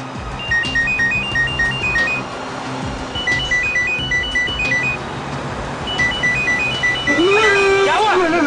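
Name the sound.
phone ringing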